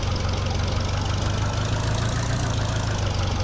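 A tractor engine in the Farming Simulator 2013 video game drones steadily at a low, even pitch, loud and continuous with no pauses, as it pulls a plow.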